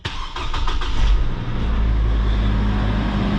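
A 2006 Hummer H3 with a 3.5-liter inline-five and 180,000 miles starts up close by: a short stuttering crank, a surge as it catches, then a steady, loud idle.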